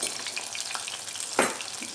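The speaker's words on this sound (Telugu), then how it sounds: "పిండి ఈ విధంగా గోల్డెన్ ఫ్రై కలర్ వచ్చే వరకు ఫ్రై అయితే సరిపోతుంది" Batter-coated paneer pieces frying in oil until golden, a steady close crackling sizzle with a brief sharper stir or splash partway through.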